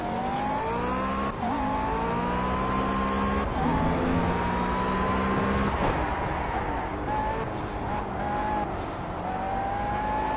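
A heavy road car in the racing game Project CARS rides over a kerb, with a continuous engine drone, shifting revs and gear changes heard up close and alone.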